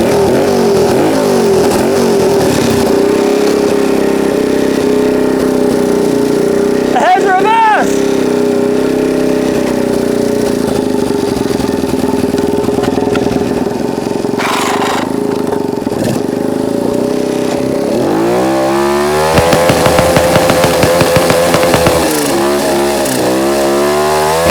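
A 150cc turbocharged go-kart engine drones loudly and steadily at close range, with pitch swells as it revs while backing up in reverse gear, and a couple of sharper rev changes midway and near the end.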